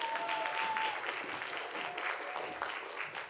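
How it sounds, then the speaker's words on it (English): Audience applause at a live improv show, a steady patter of many hands clapping in a small room that swells briefly and then thins, fairly soft overall. "Clap, clap, clap."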